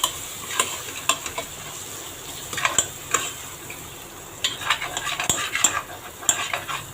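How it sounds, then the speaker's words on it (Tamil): Ingredients for a prawn biryani are stirred and sautéed in a pan, with scattered clinks of a spoon against metal over a faint sizzle, near and moderately loud, with no talking. "போட்டுட்டு நல்லா வதக்கிடலாம்."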